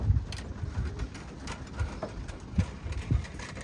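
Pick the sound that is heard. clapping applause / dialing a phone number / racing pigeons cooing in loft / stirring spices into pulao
racing pigeons cooing in loft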